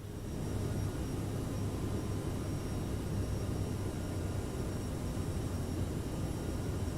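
Steady jet engine roar of an airliner climbing out after takeoff from London Heathrow in Microsoft Flight Simulator 2020, a constant broadband rumble at even loudness throughout, with no talk.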